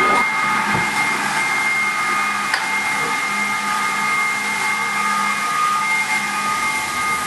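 A Viper AS380/15B 15-inch auto scrubber working the floor of a tight exam room, giving a steady, close motor hum and whine with faint brushing underneath, running continuously without pause and with no talking.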